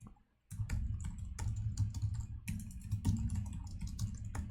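Rapid keystrokes on a computer keyboard while writing code, a close, dense run of clicks after a brief silent pause, with no talk.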